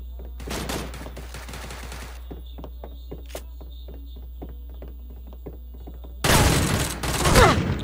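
Bursts of rapid game gunfire, a volley early on and a louder, denser barrage near the end, with scattered clicks and a steady hum between.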